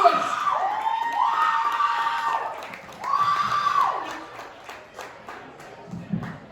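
An audience at a stand-up comedy show claps and cheers for an arriving comedian, a loose mix of applause and whoops with a voice talking over the crowd noise.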